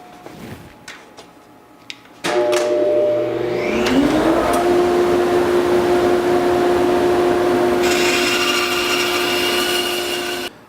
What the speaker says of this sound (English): I've got my fence on the bandsaw set to just a little over 2 inches